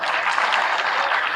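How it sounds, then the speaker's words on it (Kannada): An audience claps loudly and steadily, a dense wash of many hands applauding together without pause. "ಜೋರ್ ಚಪ್ಪಾಳೆ."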